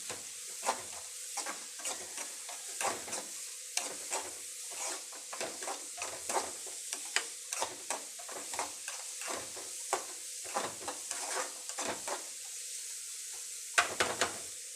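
Chopped onion sautéing in a pan for egg curry, with repeated scraping stir strokes and soft sizzling close by, sounding alone.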